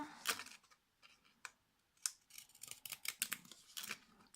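Vintage decorative scissors snip through paper for a gift card and envelope craft: a string of sharp, close crisp cuts in an uneven rhythm, growing quicker toward the end, with no talking.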